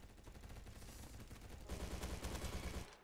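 Gunfire in the Roblox shooter Bad Business comes as a dense, continuous burst of rapid automatic shots. It grows louder partway through and is fairly close.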